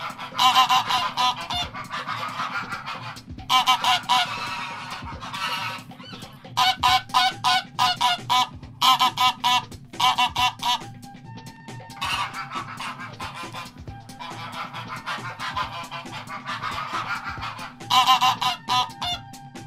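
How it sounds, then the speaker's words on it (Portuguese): Loud honking calls from ducks repeat in rapid bursts and squawks throughout, with brief pauses between volleys. "O pato é uma ave aquática da família do ganso e do cisne."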